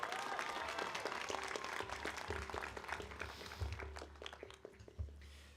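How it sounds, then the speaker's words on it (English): Graduation ceremony crowd applauding speakers at a 12th grade commencement: a steady wash of dense clapping that thins and tapers toward the end, with a few louder claps near the close. "Let's have another round of applause for Jadal and Leah."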